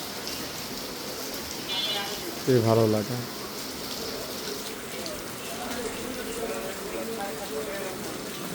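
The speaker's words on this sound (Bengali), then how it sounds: "অনেক জোরে বৃষ্টি হচ্ছে" Heavy rain falling at night, heard from a balcony: a steady, even hiss of downpour runs throughout, with a brief spoken phrase over it partway through.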